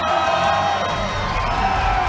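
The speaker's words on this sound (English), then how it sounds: "Both fighters milking the applause here, and they deserve every bit" A Muay Thai fight crowd in a Cambodia vs Thailand bout roars and cheers after the final bell, loud sustained cheering and whooping with applause filling the arena.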